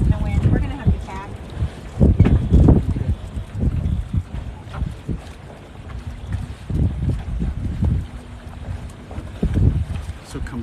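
Sailboat under way and about to tack, with gusting wind buffeting the microphone and water sloshing against the hull in uneven surges, loud and close, while a person talks intermittently.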